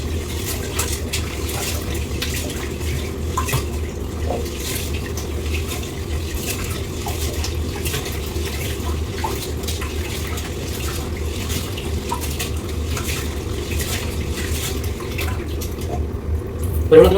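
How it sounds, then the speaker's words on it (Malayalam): Two glasses of rice being washed in water, a continuous low swishing, sloshing wash that stays even and close for the whole stretch, ending in a brief splash. "ഈ 2 ഗ്ലാസ് അരി നമ്മൾ നല്ലോണം കഴുകിയെടുക്കാം."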